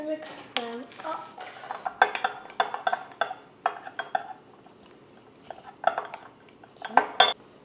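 A metal spoon mixes brownie batter in a mug, producing a series of quick close clinks and scrapes in uneven bursts, with brief pauses between strokes.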